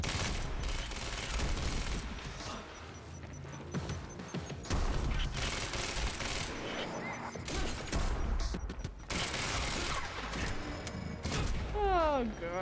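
Grenade explosions and gunfire in the shooter Quantum Break's final act: a relentless, dense barrage of rapid shots, crashing blasts and metallic clatter, loud and chaotic throughout, with a short whistling sweep near the end.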